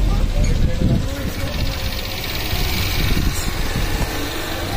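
A Bajaj Discover motorcycle engine runs steadily at a petrol stop on a Konkan road trip, a close, continuous mid-pitched rumble with voices talking over it throughout.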